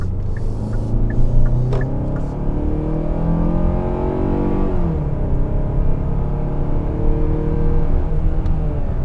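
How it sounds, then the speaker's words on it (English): A 2021 Hyundai Santa Fe SEL with an 8-speed automatic accelerates smoothly, its engine note rising steadily through a gearshift, heard from inside over a loud, continuous road and engine hum. "You hardly even notice the car getting up to speeds here, so that's really great."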